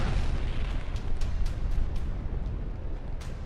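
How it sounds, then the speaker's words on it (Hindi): Deep rumbling blast from an Israeli tank shelling strike on the Holy Family Catholic church in Deir al-Balah, Gaza, a sustained heavy boom with crackling bursts, loud and continuous. "कैथोलिक चर्च पर हुए इस धमाके ने पूरी दुनिया को हिला दिया"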